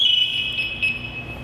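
A firefighter's personal distress alarm sounds, a steady high-pitched electronic tone with slight warbling, fairly close, over low background rumble.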